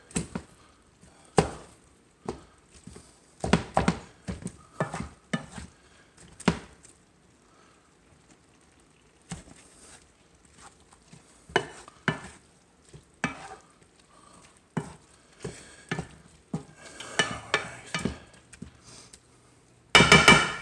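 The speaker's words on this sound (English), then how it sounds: "Even when I chop the big pieces in half" Knife chopping food into bite-sized pieces for a home dinner, a run of close, sharp knocks on a cutting board in irregular bursts with quiet gaps between.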